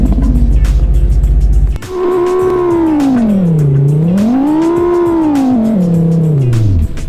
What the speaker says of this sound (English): The Fox Mountain Motors Vertex used a Lamborghini engine sound.